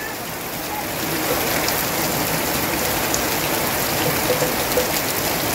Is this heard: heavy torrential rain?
yes